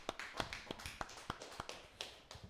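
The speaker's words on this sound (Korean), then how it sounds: "하나님께 영광의 박수 돌려드리겠습니다" A church congregation claps during a Sunday worship service, with crisp, evenly spaced rhythmic claps about three per second. The sound is quiet and somewhat distant, with no talking over it.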